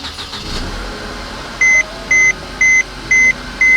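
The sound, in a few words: Mercedes W204 engine long crank and start after fuel pump replacement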